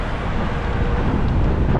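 Heavy wind buffets the microphone with a constant low rumble and roar, with no voices heard.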